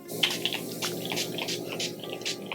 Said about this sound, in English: I'm gonna use this NYX The Marshmallow Setting Spray.